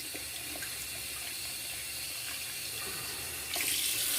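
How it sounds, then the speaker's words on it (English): Tap water runs steadily into a sink while a shaving brush knot is rinsed, a constant close hiss that swells louder near the end as the flow strengthens. "Make sure you rinse your brush really good."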